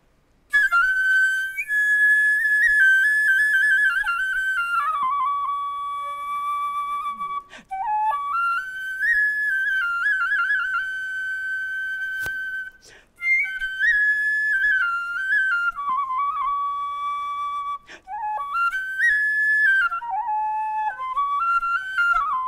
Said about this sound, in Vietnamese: Anh thích rồi bài sáo, một bài sáo dân ca của Nghệ An với anh.